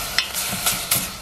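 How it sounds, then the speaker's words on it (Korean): Spoon stirring half a spoonful of doenjang into fresh laver with sesame oil and minced garlic in a pan, soft scraping strokes with faint sizzling, close and quiet with no talking. "된장을 이렇게 반스푼 좀 섞어주겠습니다"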